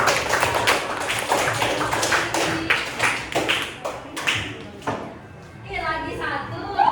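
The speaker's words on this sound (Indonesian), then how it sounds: "kita berikan aplaus dulu untuk Nindi" Classroom applause for a pupil named Nindi: a quick run of sharp claps close by over about five seconds, fading out, with a voice talking briefly afterward.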